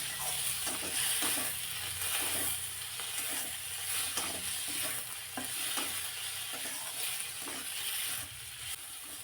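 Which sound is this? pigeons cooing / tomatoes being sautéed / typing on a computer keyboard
tomatoes being sautéed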